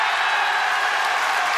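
Studio audience applause on a French television variety show, a dense, steady wash of clapping and crowd noise that holds evenly throughout.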